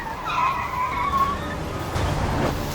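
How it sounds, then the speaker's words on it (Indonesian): A car brakes hard with a brief, high tire skid squealing near and loud, over a low road rumble, with no voices. "Jim tiba-tiba menginjak rem mendadak."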